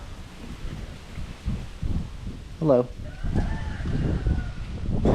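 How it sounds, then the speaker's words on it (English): Gusting wind buffeting a microphone around a chicken coop, low rumbling bursts that swell and fade irregularly, with a hen clucking briefly and a short spoken greeting. "So it is windy today, guys,"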